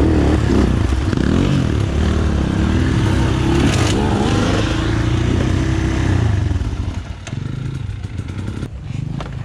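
Minsk X250 motorcycle engine pulling away as the clutch is let out, a loud, close, rough engine drone with clattering and scraping, holding steady and then dropping in level toward the end.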